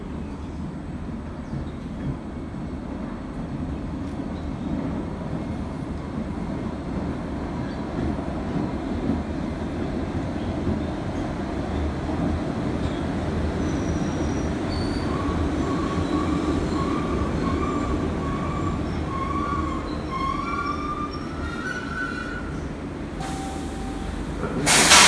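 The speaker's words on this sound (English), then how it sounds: "The next Red Line train to Braintree is now approaching." A Red Line subway train to Braintree approaches a station: a steady, loud rumble of wheels and carriage noise with hiss, building as it nears, then squealing brake tones rising in the final seconds.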